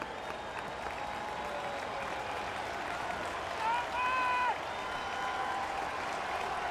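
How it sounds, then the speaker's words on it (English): Crowd clapping in the stands at a Cubs home game against the Cardinals at Wrigley Field, a steady wash of applause with a brief whistle and shouts rising in the middle. "The folks in blue are clapping, and the folks in red"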